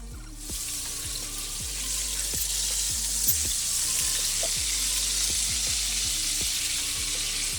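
Tri-tip browning in a thin layer of rendered fat in a pan, a loud, steady, close sizzle with a soft repeating low pulse underneath, no talking.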